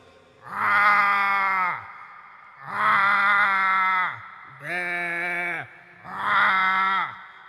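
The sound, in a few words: voice imitating a big cow lowing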